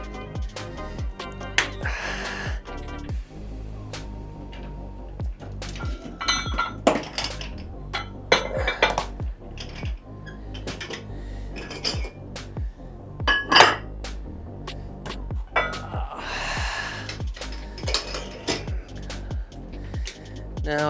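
Close, loud metallic clanks and rattles of 25-pound weight plates being taken off and loaded onto a barbell, coming in irregular bursts of knocks and clinks over about twenty seconds with no speech.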